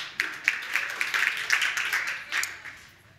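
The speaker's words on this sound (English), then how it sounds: "a little round of applause for yourselves" A small conference group gives a brief round of applause, a short soft burst of scattered hand claps that swells and then fades, with a voice faintly present.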